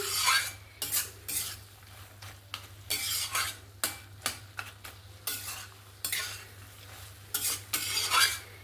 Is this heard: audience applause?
no